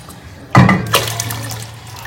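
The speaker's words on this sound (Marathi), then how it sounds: "सगळे तांदूळ टाकून घेते मी आता हळूहळू." Ground rice poured into hot milk gives a sudden soft rushing pour that starts partway in and then settles into a lower steady simmering wash, close by and fairly loud with no talking.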